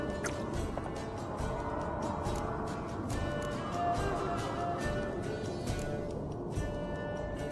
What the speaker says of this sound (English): Oh, I'll pour, Eskel. I'll pour. To the brim.